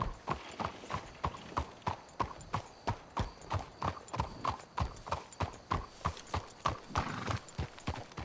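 Horse hooves clip-clop in Red Dead Redemption 2, a steady, loud, close rhythm of evenly spaced hoofbeats that continues throughout without pause.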